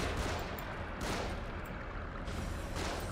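Gunshots in The Evil Within, a few heavy blasts spaced about a second apart over a dense, rumbling backdrop.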